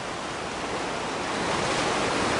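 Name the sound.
tsunami wave pouring over a sea wall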